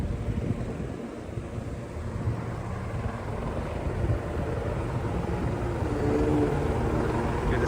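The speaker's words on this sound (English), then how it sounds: "Oh, a helicopter's gonna take off." A helicopter lifting off from Manhattan's West 30th Street heliport gives a dense, continuous rotor and engine roar, heavily buffeted by wind noise on the microphone.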